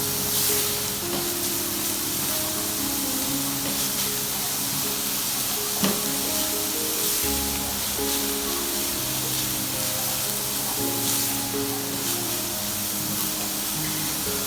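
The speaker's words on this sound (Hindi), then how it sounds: "बस हल्का हल्का सौते करना है" Vegetables sauté lightly in a hot pan, a steady close sizzle and hiss that holds at an even level throughout, with faint stirring clatter and no voices.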